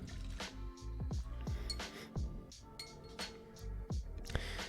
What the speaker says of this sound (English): We'll rinse that off.